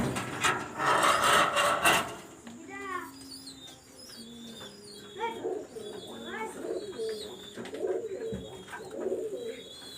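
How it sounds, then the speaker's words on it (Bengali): A male red-eyed pigeon coos repeatedly at close range, its soft rolling calls coming in a rough rhythm after a burst of rustling and scraping at the start. "এখানে দেখেন একটা রেড আই চোখের একটা কামাগারের একটা নর কবুতর আমি দেখাচ্ছি"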